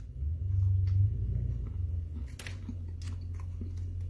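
Someone chews a Reese's Big Cup Peanut Brittle close to the mic, with soft, muffled crunching and mouth sounds over a low rumble and a few faint clicks, and no speech.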